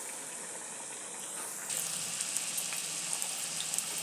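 Bitter gourd fritters fry on low heat with a soft, steady hiss that grows slightly brighter and busier partway through, with faint small crackles scattered on top; quiet and close, no voices.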